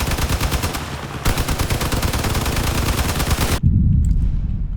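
Rapid, loud bursts of gunfire and blasts in the Crossout vehicle combat game, a dense continuous barrage that briefly cuts out and ends in a heavy, booming explosion nearby.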